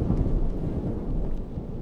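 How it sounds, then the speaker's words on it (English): Deep, rumbling thunder in the video game Observer rolls loudly and continuously through a rainy backdrop, heavy in the low end with no voices over it. "That thunder is loud."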